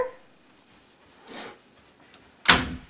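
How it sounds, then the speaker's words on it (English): A door swings shut in a home with a single sharp, close bang, preceded by a softer creak or shuffle of movement in an otherwise quiet room. "You close the door?"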